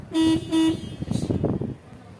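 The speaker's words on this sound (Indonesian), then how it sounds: "memeriksa bel atau klakson masih berfungsi dengan baik atau tidak dengan cara menekan bagian tengah tombol setir" A car horn sounded by pressing the centre of the steering wheel during a 5000 km periodic service check, two loud, short toots followed by a moment of talk.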